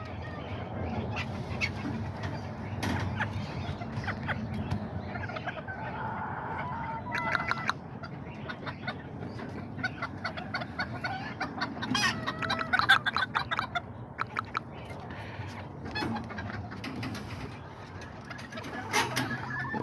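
Kikiriki chickens cluck and call in a backyard pen, with scattered short clucks and squawks over a low ambient background, some near and some farther off, alongside occasional talking.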